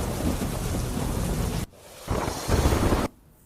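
Heavy morning downpour in Vijapur causing waterlogging: a loud dense roar of rain hammering surfaces, cutting out abruptly and surging back in bursts, with no voices.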